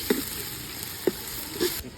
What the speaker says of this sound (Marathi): आता टोमॅटो पण मस्त फ्राय करून घ्यायचे आपल्याला कांद्यासह.